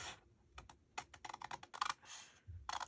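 Scissors snip through scrap paper in a quick run of sharp, close clicks and cuts, irregular in rhythm and fairly quiet, with no speech.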